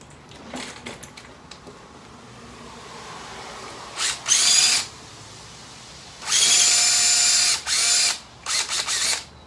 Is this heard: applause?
no